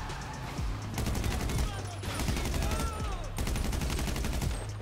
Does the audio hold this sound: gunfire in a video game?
yes